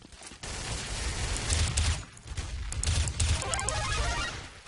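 Rapid pistol gunfire in a Counter-Strike: Source gun game match, with repeated sharp shots in clustered bursts over game ambience, loud and continuous through the clip.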